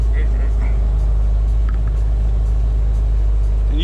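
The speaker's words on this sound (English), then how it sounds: "It just stays up at high idle all the time." A Jeep Wrangler or Cherokee engine stuck at a high idle while cold gives a steady, continuous low rumble close by with no break in tone.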